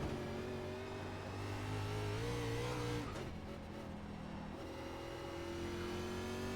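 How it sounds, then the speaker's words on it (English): A NASCAR race car in the iRacing game leaves the pits at Charlotte Roval, its engine holding a steady drone, briefly cutting off, then climbing again in pitch, loud and close with no talking. "car coming out of the pits, number 9"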